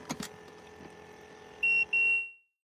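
A phone linked to a fishing live-scope screen gives two short, bright electronic beeps for an incoming text, loud and near after some faint outdoor noise, with the sound cutting off just after.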